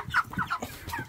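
A turkey hen gives a few quick, soft clucks close by, in a short run of chirpy calls with no voices.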